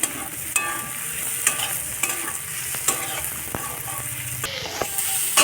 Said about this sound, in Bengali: মশলা কষানো হয়ে গেছে, এবার আমি সয়াবিনটা দিয়ে দেবো।